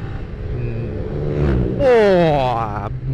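A Yamaha Vixion R motorcycle being ridden, its engine note rising sharply as it speeds up, loud and close, with a voice speaking over the engine.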